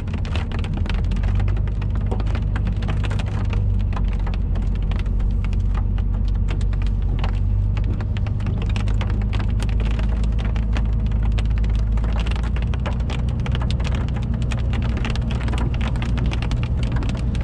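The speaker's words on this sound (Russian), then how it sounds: "Ничего себе, дождь крупный." Heavy rain with large drops pours down steadily and loudly outdoors in Badlands National Park, South Dakota, a dense, continuous patter with a low rumbling undertone and no voices.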